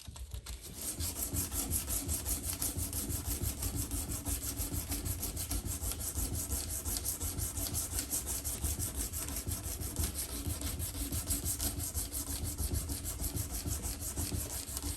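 Steady, continuous rubbing and sanding strokes on a surface, working down scratches and lowering the area around a divot, a close, even abrasive rasp repeating without pause and with no talking.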